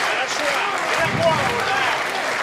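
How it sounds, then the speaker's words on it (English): Arena crowd at Hartwall Arena in Helsinki chanting a fighter's name during an M-1 Challenge MMA bout, a dense, steady roar of many voices with some clapping, filling the space at constant loudness. "Chant of Toni now from this Helsinki crowd here at Hartwall Arena."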